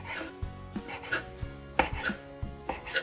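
A knife chopping rolled ham into small pieces on a board, a run of crisp, fairly quick knocks in an uneven rhythm, close and quiet with no talk.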